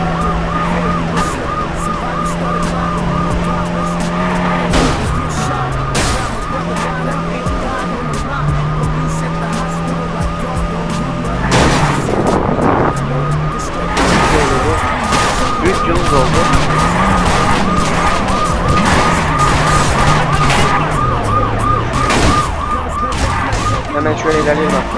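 Police sirens wail in the Wheelman video game during a car chase, rising and falling in steady repeating cycles over engine noise, with brief bursts of crashes and a voice talking over them.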